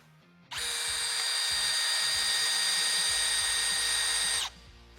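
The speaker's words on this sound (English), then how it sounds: "So I've sunk the drill bit in as if it's bound up and locked up solid." A cordless Milwaukee drill whines at a high, steady pitch for about four seconds as its bit binds in wood, starting and stopping abruptly, loud and close.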